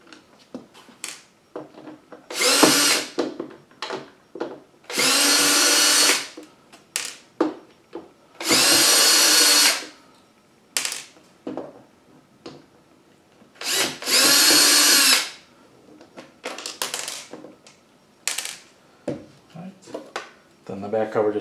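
A power driver backs screws out of an Arcade1Up Atari Legacy cabinet in four loud whirring bursts of one to two seconds each, with someone talking quietly in the gaps between them.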